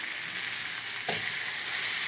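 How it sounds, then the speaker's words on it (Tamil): Bitter melon stir-fries in a pan with a constant soft sizzle, and a single stir scrapes through it about halfway. "இந்த பாவக்காய் இன்னும் ஒரு 10 நிமிஷமாவது சிறுத்தீர அப்படியே வெந்துக்கிட்டே இருக்கும்"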